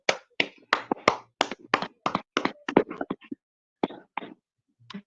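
Hands clapping in sharp, separate claps with an uneven rhythm, a run of about a dozen close, fairly loud claps, a short pause, then a few more.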